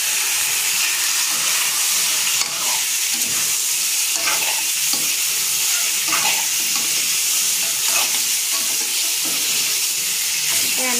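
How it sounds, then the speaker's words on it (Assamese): Boiled pork hits a hot pan and fries with a steady, loud sizzle throughout, broken by scraping stirs and occasional pops. "বইল কৰা মাংসখিনি দি দিলোঁ"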